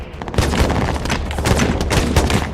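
Dense, continuous automatic gunfire crackles and booms throughout a firefight scene from the film 13 Hours: The Secret Soldiers of Benghazi, loud and overlapping with no pauses.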